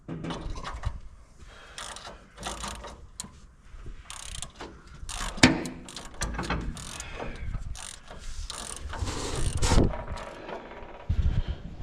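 Nuts are tightened with a hand ratchet on a G1050 machine, giving close, rapid clicking bursts of the pawl in uneven runs with brief pauses, heard alone.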